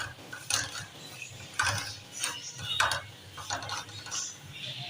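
Semolina is being dry-roasted and stirred in a pan, with intermittent scraping and metallic clinks of a spoon against the pan in uneven bursts, fairly quiet and close.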